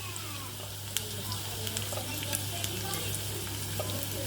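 Chopped onions sizzle steadily in a hot pan as the base for a chicken curry, a continuous crackling fry with scattered sharp pops and a low steady hum underneath.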